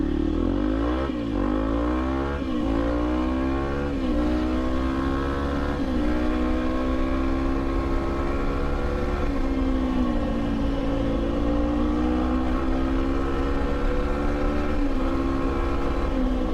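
A four-wheeler ATV drives along a road, its engine droning steadily and loudly with harmonic pitch sweeps as it revs and shifts, close and continuous without talk.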